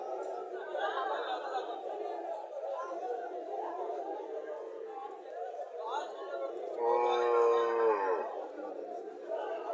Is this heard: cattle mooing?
yes